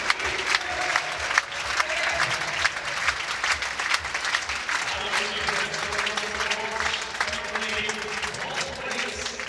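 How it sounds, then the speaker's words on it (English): A big crowd at a Stockholm event applauds and cheers, loud dense clapping and roaring that run on steadily, with commentators' voices over it. "Crazy crowd here"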